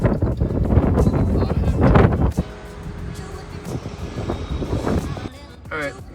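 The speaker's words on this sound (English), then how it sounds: "we have quite a strong headwind" A strong headwind buffets an electric car cruising at about 65 mph while towing a lawn trailer, heard as loud gusty rumbling and microphone wind noise with road roar, while someone talks over it.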